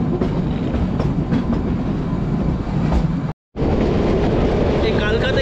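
Kalka–Shimla toy train crossing the longest bridge on its mountain route, a loud, steady rumble and clatter of rail wheels heard from on board, with one brief dropout.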